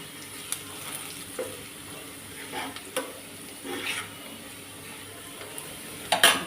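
Panch phoron spices crackling in hot oil for dal tempering, a low sizzle with scattered sharp pops and occasional stirring clinks against the pan.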